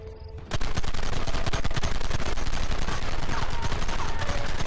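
Dense, loud gunfire in the video game Red Dead Redemption: a sustained barrage of rapid, overlapping shots that erupts suddenly after a brief lull and continues without pause.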